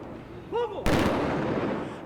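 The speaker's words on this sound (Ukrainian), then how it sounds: "Їх проводжали оплесками і військовим салютом." A single loud military salute gunshot cracks out and echoes at a funeral ceremony, following a brief faint voice, then a lingering rumble over crowd ambience.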